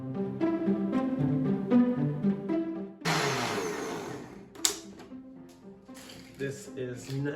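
A blender whizzes eggs with a splash of liquid for eggnog, a loud, dense roar starting about three seconds in and running steadily to the end, after a stretch of music-like tones and with a brief clack partway through.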